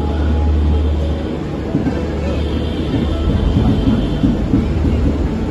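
A passenger train pulls out of Shalimar station bound for Puri, its steady heavy rumble and rolling wheel noise filling the whole stretch up close with no talk.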